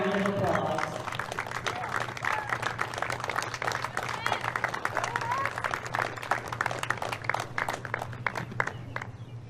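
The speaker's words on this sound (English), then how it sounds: "Let's give all of the Wesleyan student athletes, coaches, and staff a round of applause." Audience applause at the 2024 NCAA Division III women's tennis team finals, a steady wash of clapping from a crowd that runs for the full stretch, with some voices mixed in.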